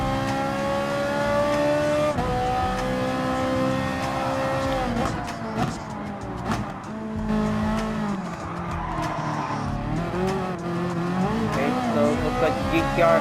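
Race cars, including a Ferrari 458 Italia GT3, a GT-R and BMW M6s, in Gran Turismo Sport, with loud, steady engine drones rising and falling through gear changes and some tire squeal, while a voice talks over the racing.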